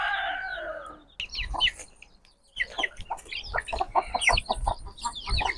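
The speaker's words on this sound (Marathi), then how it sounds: "हा आपला मोठा कोंबडा आहे।" A large free-range village rooster crows once at the start, then a flock of farm hens and two-month-old chicks clucks and chatters busily nearby, with overlapping calls.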